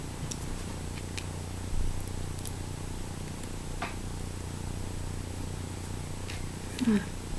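Domestic cats purring close by during a crochet session, a low steady rumbling purr running throughout, with occasional faint taps and rustles on top.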